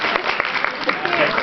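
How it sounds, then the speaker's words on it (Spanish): Brief applause from an audience at a debate, quick uneven clapping with voices talking over it. "Se van a aplaudir con más ganas para que se vaya sintiendo"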